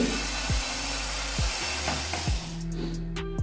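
A Black & Decker 4V lithium cordless screwdriver drives a screw, its steady close motor whine running alone with a few brief pitch dips and a slowdown near the end.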